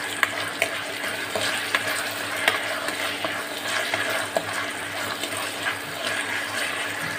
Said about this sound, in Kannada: ಚೆನ್ನಾಗಿ ಈ ಥರ ಇದು ಸ್ವಲ್ಪ ಫ್ರೈ ಆಗುತ್ತೆ